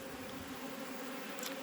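Honey bees hum steadily around a swarm in a short, even, close drone with no talk.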